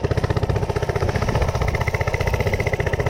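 Small Coleman CC100x mini bike engine held at full throttle, a loud, steady, close-up drone with a fast, even pulsing beat and no pauses.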